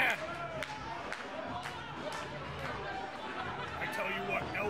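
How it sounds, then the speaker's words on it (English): Wrestling crowd at a Rumble in the Dot 2021 event chanting for the masked wrestler El Reverso, a steady roar of crowd noise with rhythmic chant pulses throughout, carrying on under continuous talk. "The crowd chanting Reverso, getting behind the masked man."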